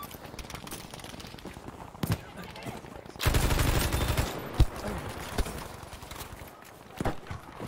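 Bursts of gunfire in Battlefield 5 on Wake Island, where the player uses a BAR rifle: scattered shots, then a loud sustained volley in the middle, with sharp single cracks afterward over quieter battlefield background.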